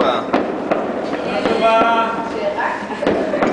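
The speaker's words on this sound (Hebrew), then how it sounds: "יש גם זיקוקים לחיפה" New Year fireworks burst over a city, several sharp cracks and booms at irregular intervals, fairly close and loud, with people talking and cheering underneath.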